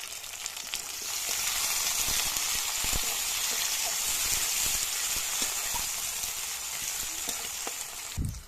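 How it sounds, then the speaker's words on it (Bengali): Tomato tossed into a pan of fried onion sizzles loudly and steadily, a dense hiss with scattered crackles and pops from start to finish, ending with a brief clunk. "এবার আমি টমেটোটা দিয়ে দেবো।"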